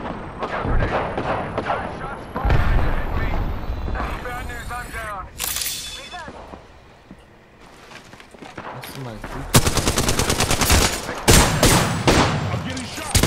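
Rapid bursts of gunfire pelt the player in the Apex Legends battle royale, loud cracking volleys that come in clusters, stop briefly, then return with sharper intensity, while someone talks over much of it.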